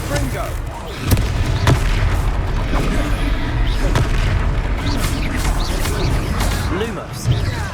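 Confringo fire spell explosions burst repeatedly in a Hogwarts Legacy fight, loud sharp booms at irregular intervals over a rumbling battle bed, with a voice talking between the blasts.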